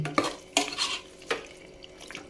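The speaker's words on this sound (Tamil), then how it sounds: "நல்லா மட்டன் அதுவும் நல்லா வதங்கணும்" Mutton being sautéed and stirred in a pan, a few distinct scraping strokes of a utensil over a low sizzle, brief and close.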